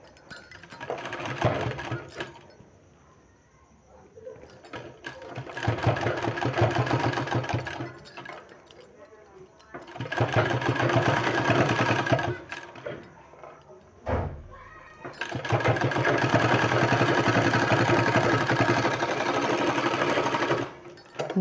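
An electric sewing machine runs piping stitches along a sleeve in long steady whirring runs of several seconds each, close and loud, separated by short pauses while the fabric is repositioned.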